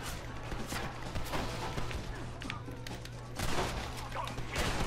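Dense gunfire rattles through a house shootout in the Red Dead Redemption video game, rapid overlapping shots cracking nonstop at close range for several seconds.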